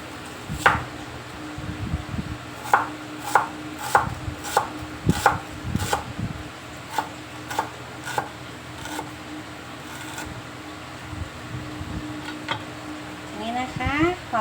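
Onion being chopped on a board for a Thai glass-noodle salad: a steady series of sharp, close knife thuds, about a dozen evenly spaced strikes, with a brief rustle near the end.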